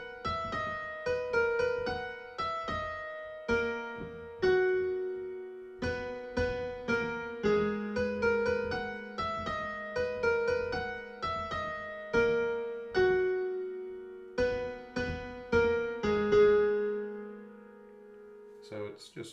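Solo piano plays the chorus, steady melodic notes over held lower chords, clear and close, with no voice over it.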